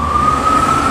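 An emergency vehicle siren sounds on a Kensington street as a loud, steady held tone over a rumble of traffic.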